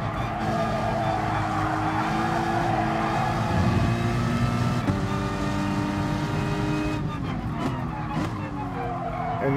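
The slowest car in the Gran Turismo Sport racing game drives with a continuous engine drone that rises and falls through gear changes, with tire squeal on the turns.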